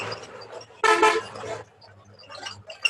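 A car horn honks once in a short, loud burst, picked up through a student's microphone while riding in a moving car during an online class, over faint road noise.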